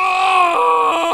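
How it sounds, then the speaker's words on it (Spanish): A ragdoll character in the physics game Happy Wheels screams in a long, loud, strained cry that wavers and breaks toward the end, heard alone and close up. "Ay, Dios, el pobre sigue gritando."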